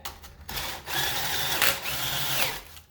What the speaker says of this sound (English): Probably turn the drill up a bit, but that's good.